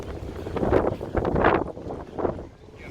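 Wind buffeting a microphone while cycling Lake Shore Drive in downtown Chicago during a Bike the Drive event: loud, gusty low rumbles swelling and fading in irregular bursts, close to the mic.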